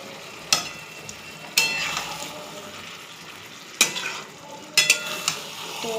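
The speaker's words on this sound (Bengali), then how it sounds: "তো চিকেন আর মশলাটা আমি একসাথেই কষাবো" Chicken sizzles with spice paste in a hot pan as a spatula stirs and scrapes, steady frying hiss broken by several sharp clanks and scraping strokes, close and fairly loud.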